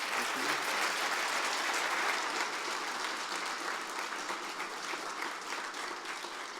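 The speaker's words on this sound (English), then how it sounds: "So let's give them a round of applause." Sustained audience applause closes a food conference session on Polish culinary tradition, a dense, steady wash of clapping that fades slightly toward the end, with no voices over it.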